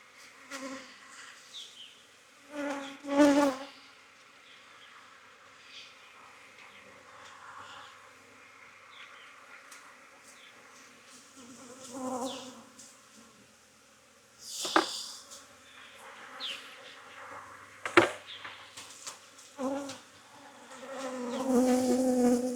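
Honeybees buzzing around hive frames during queen banking work, a low steady hum with several louder passes as bees fly close by, swelling and fading over the clip.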